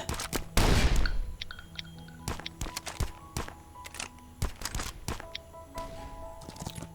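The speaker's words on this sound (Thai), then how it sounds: "มีเสียงปืนครับ มีคนยิงแถวนี้" Sharp gunshots crack out one after another at irregular intervals, with one heavy burst early on, amid quiet background noise in the video game Last Island of Survival.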